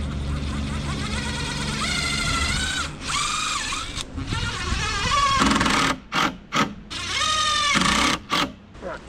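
A power drill drives screws into a handrail on a creek bridge, whining in long, pitch-shifting bursts that rise as each screw bites, close and loud, with short pauses between runs.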